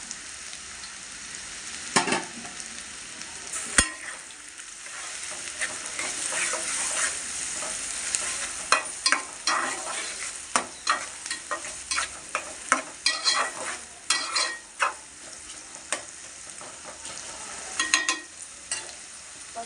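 Onions sizzle and fry in a pan for a Godavari-style fish curry, with a steady hiss broken by sharp, irregular scrapes and knocks of a spoon stirring against the pan, fairly close, no talking.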